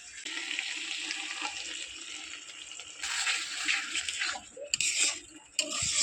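Spices stirred and frying in hot oil make a steady, close sizzle with scraping and stirring noises that grow busier toward the end.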